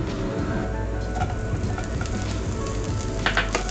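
Coconut flakes sizzle steadily in hot oil in a pan after roasted nuts, a dense continuous frying hiss with faint scraping from stirring, close and alone.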